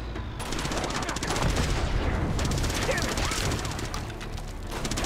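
In Uncharted 2, a tank keeps up heavy gunfire, with dense bursts of shots and booms crowding together for several seconds, loud and close, over a rumbling background.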